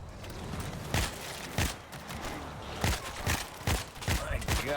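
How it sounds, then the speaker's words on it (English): A shotgun and a grenade launcher fire in World War Z on a Jerusalem level, a series of loud, punchy blasts spaced at irregular intervals over a continuous background of game noise. "I'm just, you know, rotating between my shots from the shotgun and the MGL"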